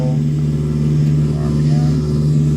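Cessna 172SP engine in a flight simulator, a steady low droning hum with a strong constant tone as throttle is added, loud and even throughout.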